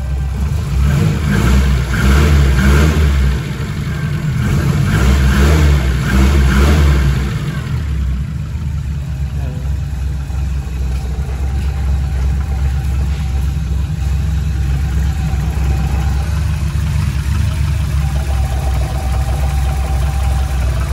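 A Chevrolet Chevette engine with a new ignition coil and spark plug revs in bursts for several seconds, then settles into a steady, rumbling idle close by.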